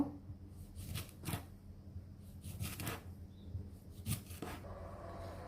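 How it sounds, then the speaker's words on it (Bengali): Knife chopping a large cucumber on a board in a home kitchen, several sharp, separate cuts at an uneven pace, close and moderately quiet, with no talking. "এখন আমি শশা কুচি করে নিব দেখেন বড় সাইজের একটা শশা নিয়েছি"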